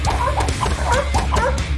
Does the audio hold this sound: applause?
no